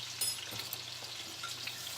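Flour browning in a pan for chicken Alfredo gives a soft, steady frying sizzle with light stirring scrapes, close and fairly quiet.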